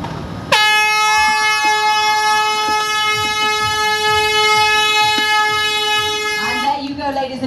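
Loud air horn starts a race at the Singapore Sports Hub, with one long steady blast lasting about six seconds over crowd and ambient noise before it cuts off.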